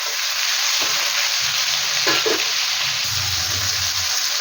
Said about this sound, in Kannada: ನೋಡ್ತಾ ಇರ್ಬೋದು ನೀವು ಎಷ್ಟು ಚೆನ್ನಾಗಿ ಈರುಳ್ಳಿ ಮತ್ತು ಟೊಮೆಟೊ ಚೆನ್ನಾಗಿ ಫ್ರೈ ಆಗಿದೆ